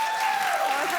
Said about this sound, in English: everyone in this studio is standing and clapping